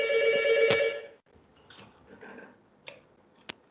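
A telephone rings during a lecture in a classroom: one loud, bright electronic trill of about a second, then quiet room sounds with faint clicks and a couple of sharp taps.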